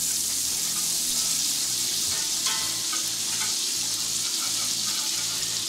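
A dollop of butter melts in bacon grease in a pan for country ham and red-eye gravy, a constant, even sizzle with light crackles, close and unbroken, with no talking.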